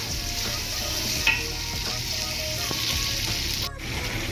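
Bottle gourd and potato pieces sizzle steadily in hot oil, a close, continuous frying hiss with a few scrapes of stirring and one brief clink, no voices present.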